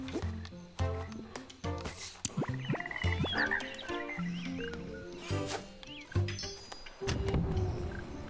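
Cartoonish frogs croak repeatedly in the storybook adventure game The Plucky Squire, mixed with bright game effects and music, while a player talks over parts of it.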